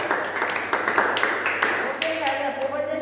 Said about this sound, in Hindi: हाँ ताली तो बजा रहे